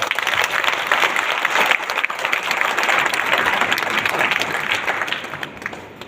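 Audience members at a p.k mast comedy show in Bundi clap loudly and continuously for several seconds, a dense, even wash of many hands that eases only slightly toward the end.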